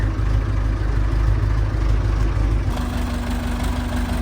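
An Ostrówek excavator's engine idles steadily with its throttle set by a hand screw, a close, continuous low rumble whose pitch shifts slightly partway through.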